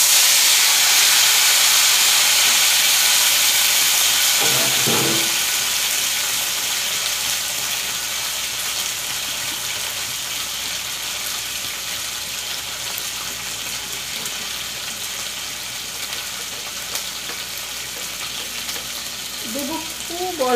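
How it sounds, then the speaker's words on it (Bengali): Tomatoes frying in a pan for tomato chutney, with a loud, broad sizzling hiss that gradually settles to a softer steady fry. A faint voice is briefly audible in the background. "এবারে টমেটো গুলো দিয়ে দেব।"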